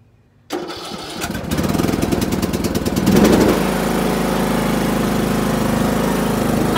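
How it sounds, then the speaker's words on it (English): A riding lawn mower's engine cranks over briefly and catches, then settles into a loud, steady running drone close by, with no talking. "So we're gonna start it up. Oh, probably need to choke it a little."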